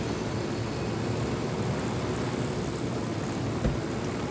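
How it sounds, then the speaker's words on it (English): Helicopter in the video game Ghost Recon Wildlands, a steady, dense rotor and engine rumble that holds at an even loudness throughout, close and uninterrupted, with no voices. "We got your chopper."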